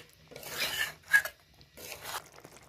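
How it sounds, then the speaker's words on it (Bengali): A utensil scraping and stirring chicken korma in a pan, three separate rasping strokes, close and fairly quiet, with no voices. "ভালো করে নেড়ে চেড়ে নেব।"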